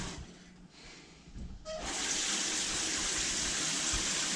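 A water tap in a Hiroshima hotel room is turned on at about two seconds, giving a steady, close hiss of running water that continues to the end after a quiet room tone.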